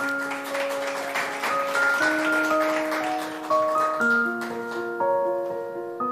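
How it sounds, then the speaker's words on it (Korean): Applause welcoming a presidential candidate onto the stage at a party vision presentation, crowd clapping under a loud, bright musical fanfare with sustained tones that step through chord changes, the clapping largely buried beneath the music. "박수로 환영해 주시면 감사하겠습니다"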